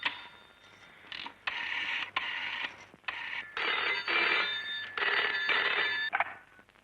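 A telephone rings in a series of bursts with short pauses between them, loud and close in a quiet room, and nobody speaks.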